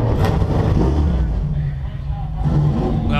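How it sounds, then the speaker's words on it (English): GT race car engines starting and idling together on the starting grid at Mid-Ohio, a dense low rumble with revving swells, heard loud and continuous under a commentator's voice. "drivers, start your engines."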